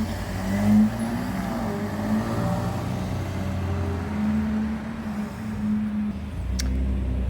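A Holden VF Calais V6 fitted with a high-flow catalytic converter, a low, steady engine drone with mild throaty revs rising and falling, moderately close, no talk.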